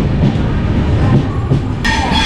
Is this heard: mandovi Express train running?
yes